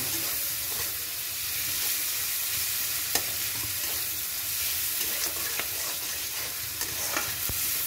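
Garlic and spices go into onions frying in a pan for a pui leaf and rohu roe dish, giving a constant loud sizzle with occasional light scrapes and clinks of stirring.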